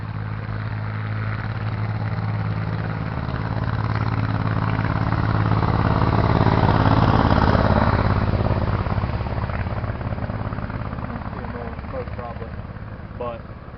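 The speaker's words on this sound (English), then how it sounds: "here comes the tractor, so it's going to be pretty loud for a second" A tractor drives past outdoors, its low engine rumble swelling as it nears, peaking mid-clip and fading away, with people talking over it.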